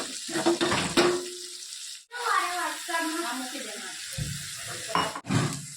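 Boiled potatoes tumble into a pan of hot spice masala. A clattering drop gives way to a bubbling sizzle and stirring scrapes, with a few sharp knocks near the end.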